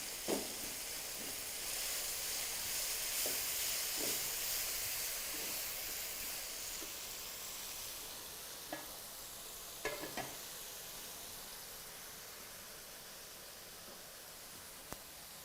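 Chicken fries with a steady sizzle in a pan while a spoon breaks it into fine pieces, scraping and tapping now and then, close and continuous, with no one talking.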